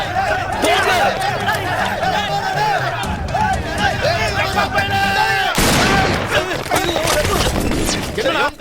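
Gunfire in a film scene: shots and a sharp burst ring out amid loud shouting voices and crowd commotion, with the shooting largely buried under the yelling.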